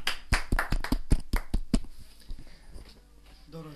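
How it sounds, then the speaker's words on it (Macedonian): A television studio audience claps in a short burst of sharp, closely spaced handclaps that fades after about two seconds into quieter rustling, with a voice briefly audible. "Аплауз, дами и господа"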